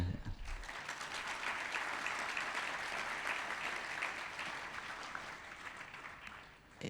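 Audience applause at a youth camp session, a dense sustained wash of clapping that stays steady and fairly loud for several seconds before tapering slightly at the end.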